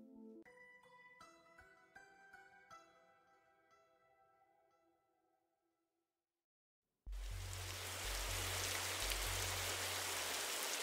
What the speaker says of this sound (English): That rain's a bit loud